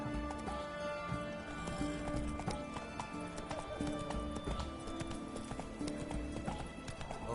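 The horse Roach gallops in a video game, a steady rapid clip-clop of hooves under music with a brief whinny, heard continuously and fairly close throughout.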